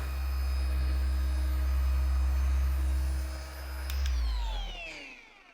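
A Rupes HLR15 cordless polisher works steadily across a car's body panels, giving a loud, continuous motor whir that dips slightly before tailing off near the end.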